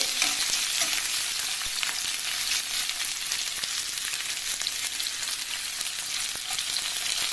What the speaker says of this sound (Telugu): ఉల్లిపాయ ముక్కలను వేసుకోవాలి. వాటిని బాగా మగ్గనివ్వాలి.